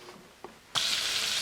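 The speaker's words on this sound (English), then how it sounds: "Okay, so we've got the bubbles going with the butter. Nice and frothy." Butter and oil in a pan over medium-high heat burst into a loud, close, steady sizzle after a couple of faint knocks, the frothy bubbling hiss continuing to the end.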